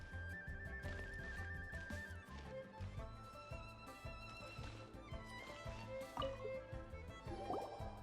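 Water being collected in the video game Genshin Impact, with soft drips and liquid filling sounds set against layered game music and chimes.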